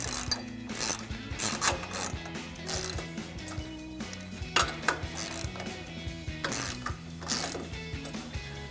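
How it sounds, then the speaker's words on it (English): A ratchet with a 15mm socket tightens a bolt on a coil-over kit for a 2019-2024 Sierra 1500 truck, giving close, crisp bursts of rapid clicking with short pauses between strokes. "I'm gonna take a 15mm socket on a ratchet."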